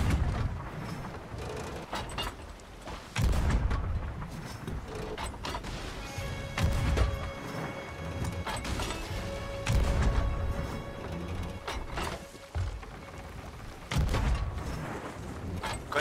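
Video game cannon fire from a pirate ship in Sea of Thieves: repeated heavy booms and crashes ring out at irregular intervals over a rumbling, clanking mechanical background, loud and close.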